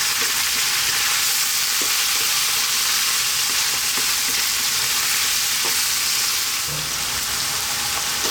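Goat curry fries in a pan over fairly lively, above-medium heat, producing a steady, close, continuous sizzle with occasional faint stirring scrapes and no talking.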